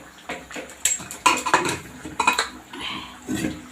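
A metal lid lifting off a cooking pot of boiled dal, soybean and mixed vegetables, with a cluster of close clanks and utensil clatter in short bursts, no talk.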